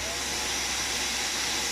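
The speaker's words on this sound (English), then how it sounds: "I've got this linked up to the vacuum cleaner, put that on there, fire it up" A vacuum cleaner fitted with a vinyl record vac runs with a steady, loud airy whoosh and whine throughout, close and unbroken.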